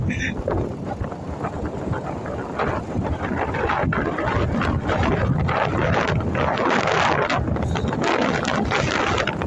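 Strong wind on Texada Island, British Columbia, buffets the microphone with a constant roaring rush that grows a little louder partway through, with no clear voices.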